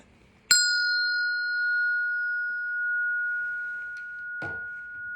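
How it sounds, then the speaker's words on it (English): A bell is struck once and rings with a clear, sustained pure tone that slowly fades over several seconds in a quiet room, with a faint knock near the end. "So I'm going to hit the bell"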